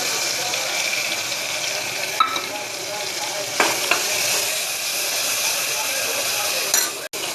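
Masala paste hits hot oil in a pan and sizzles steadily, a loud, continuous hiss close up with a few faint clinks of utensils against the pan.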